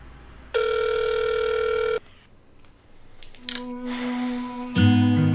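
A telephone line plays a steady electronic tone for about a second and a half, then a quieter pause, followed by a rising series of synthetic beeps and tones like a call being forwarded to an automated system.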